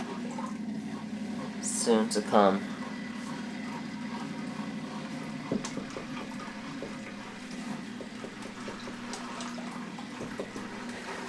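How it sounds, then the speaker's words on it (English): An aquarium filter starts up and splashes water into a fish tank whose water level is low, a steady running wash of water heard beneath a person talking. "I think I might start the filter as well. It's gonna make a bit of splash since the water level is low"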